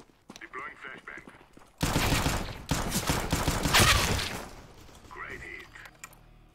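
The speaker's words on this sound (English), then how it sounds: "Deploying flashbang." Game audio of a flashbang going off, followed by a dense burst of rapid gunfire in a first-person shooter. It begins with a sharp hit and a loud, sustained crackle of shots, and short voice lines come before and after.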